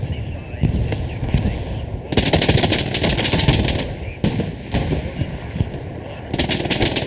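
Machine-gun fire from the Hell Let Loose multiplayer game, with a player on an MG right off the spawn: rapid sustained bursts, several long volleys separated by short pauses, loud and close.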